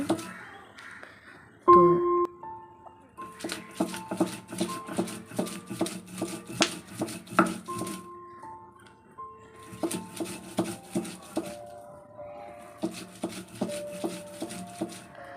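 Coriander leaves ground on a grinding stone, rhythmic scraping and rubbing strokes in bursts, with pauses and a sharp knock near the start.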